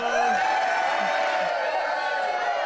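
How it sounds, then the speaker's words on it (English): An applause sound effect plays on a podcast, a dense burst of clapping and crowd cheering lasting a few seconds, loud and close, with voices and laughter mixed in over it. "Our, our applause is gonna do it again."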